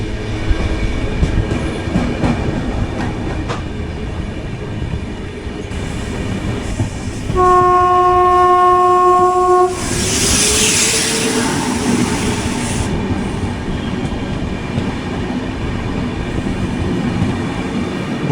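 A Bhubaneswar–Chennai Central Express thunders past on the opposite line near Chennai Central, sounding a long, loud horn followed by a steady rush and rumble of passing coaches, close by.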